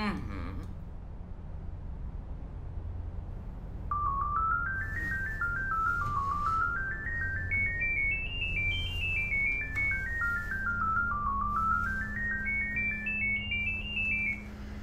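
A telephone ringtone plays a rising and falling electronic melody, repeating steadily and fairly loud in a quiet room, with no voices during the ringing.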